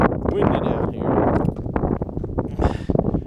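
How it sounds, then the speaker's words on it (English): Strong wind buffets the microphone in loud rumbling gusts, with a person speaking and occasional footsteps or scuffs underneath. "It is windy down here."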